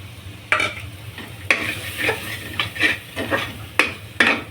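Spinach (palak) paste sautéing in a pan, with a soft background sizzle broken by several distinct stirring scrapes and spatula knocks against the pan at irregular intervals.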